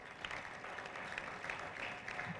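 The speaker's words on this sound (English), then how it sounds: "Please, a round of applause for him." Distant applause from a crowd at a national integrity conference, a steady wash of many hands clapping, faint and continuous for the whole stretch.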